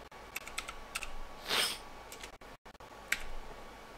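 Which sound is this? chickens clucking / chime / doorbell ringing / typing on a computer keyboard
typing on a computer keyboard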